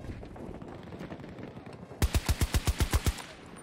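Rapid bursts of BSVM automatic rifle fire in Battlefield 2042, around ten loud, evenly spaced shots in a tight rhythm, breaking in suddenly after a quieter stretch of background game noise.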